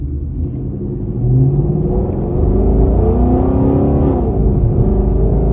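A 2015 Ford Mustang GT's engine rumbles loud and steady while driving, with the drone lifting and the pitch climbing as it accelerates partway through before holding a higher revving note.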